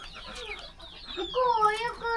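A hen clucks close by in a home setting, with short harmonic calls rising into a louder drawn-out cackle near the end.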